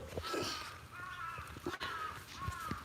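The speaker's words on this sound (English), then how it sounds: "Can you guys hear the crows?" Several crows caw repeatedly at a moderate distance in Japan during cherry blossom season, harsh calls spaced irregularly over faint outdoor background noise.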